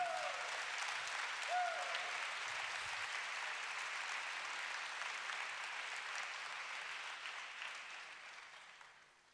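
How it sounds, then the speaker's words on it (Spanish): A church congregation applauds in a sustained, dense wash of clapping that tapers off toward the end, with a brief tonal note near the start. "Denle un aplauso fuerte al Rey."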